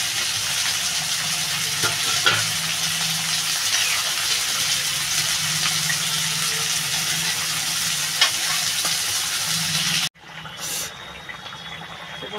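Small fish tipped into a pan of soft-cooked potatoes and greens for a Bengali curry, a steady loud sizzle with scraping stirs for about ten seconds, then a brief gap and a fresh burst of frying.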